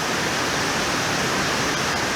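Warm milk pours in a steady, close, loud rush into a bread dough mixture of melted butter, a continuous liquid gush with no break.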